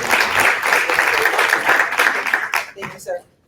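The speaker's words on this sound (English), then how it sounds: "Can we give them a round of applause?" Audience applause at an anniversary celebration event for the March on Washington, a dense sustained clapping crowd that tapers off and fades out at the end.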